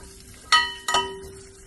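Ginger and garlic hitting hot oil in a pan for a lemon and dates pickle, two loud bursts of sizzling close up over a steady background hum, with no talking.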